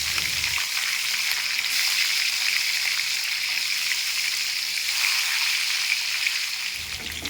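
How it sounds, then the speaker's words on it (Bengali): A marinated fish head fries in hot mustard oil in a kadai, giving a steady, close hiss and sizzle that runs throughout and eases slightly near the end. "এবার মাখিয়ে রাখা মাথাটা ভেজে নেব।"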